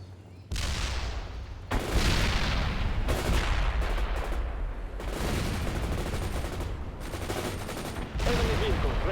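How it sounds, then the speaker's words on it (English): Machine gun and grenade fire in the video game World in Conflict: dense bursts of rapid gunfire and heavy booming blasts, loud and close, broken by a few short pauses between volleys. "Fires a machine gun."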